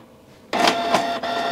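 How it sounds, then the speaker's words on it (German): A printer powers on with a sudden loud whirring hum that starts abruptly and holds steady, with a brief dip partway through, in a quiet room. "Laut Einschalten des Druckers."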